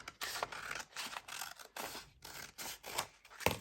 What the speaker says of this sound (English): I'm going to just cut the sticky bit off. And I'm going to cut that off.